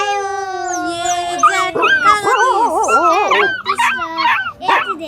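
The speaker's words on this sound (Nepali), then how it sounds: "त्यही बेला त्यहाँ कुकुर आइपुग्दछ" A cartoon dog whimpers and howls in long, wavering whines, then breaks into short yips and barks, loud and close.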